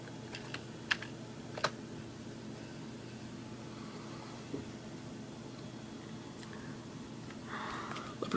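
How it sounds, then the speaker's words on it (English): An administrator password is typed on a computer keyboard, giving a few faint, scattered key clicks over a steady background hiss. "I'm just going to ask you for the administrator password, so I'm going to type mine in"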